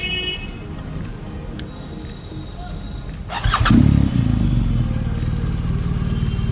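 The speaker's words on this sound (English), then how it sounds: "I'll just start the bike" A BMW R1250 motorcycle's engine starts up close by, with a brief whirring crank and a sudden burst into life, then settles into a steady idle over faint background sound.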